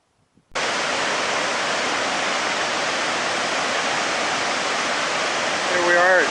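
Shoshone Falls roars with a heavy, steady rush of falling water after a brief quiet start, the broadband wash loud and continuous throughout, swelling slightly near the end.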